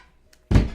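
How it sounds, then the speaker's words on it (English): A phone dropped onto a hard surface lands with a single loud, close thunk that rings out briefly after a near-silent moment. "sorry about that bang. I just dropped my phone on"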